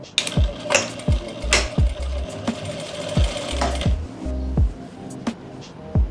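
A sewing machine stitches a circular plazo in loud, close bursts of rapid mechanical clatter, pausing and restarting several times with heavy thumps, and no talk over it.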